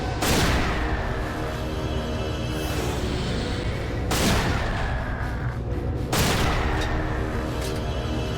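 Three heavy booming shots from the Far Eye sniper rifle in the shooter game Resistance: Retribution, spaced about two seconds apart, each sharp and loud with a long decaying rumble over a constant background din.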